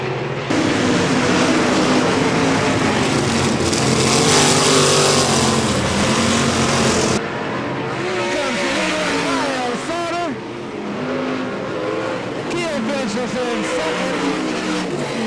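Race cars in the Great Lakes Thunder series roar back to speed through turn four on a green-flag restart at lap 16, a loud, sustained engine howl that rises and swells beneath a commentator's voice.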